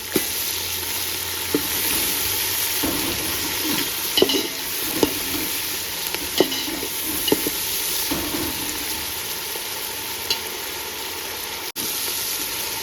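Mint fries and is stirred in a pan for a 1 kg chicken dum biryani: a constant close sizzle broken by irregular scraping and clinking stirring strokes, with no voices.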